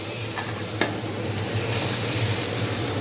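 Grated coconut tossed in a hot pan with pepper and egg for a thoran made with agathi flowers. The stirring scrapes along steadily over a continuous low sizzle, with a couple of sharper clicks near the start, and no voices.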